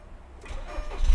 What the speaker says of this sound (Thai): เดี๋ยวผมสตาร์ทเครื่องยนต์ให้ดูนะครับ